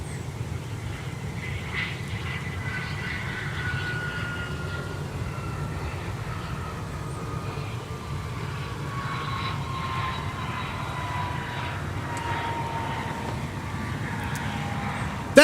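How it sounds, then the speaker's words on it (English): A business jet arrives on runway 12 right at Minneapolis–St. Paul Airport, heard as a steady distant roar with a faint whine sliding slowly downward. "we got a BizJet on 12 right arriving"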